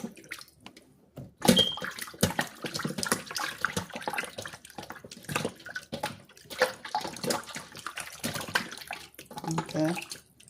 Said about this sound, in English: So you're gonna wash the chicken with some vinegar.